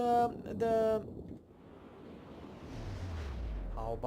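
Torpedo hits on the battleship Fuso in a naval game build into a deep, swelling rumble of explosion that grows louder toward the end, after brief game voice clips at the start.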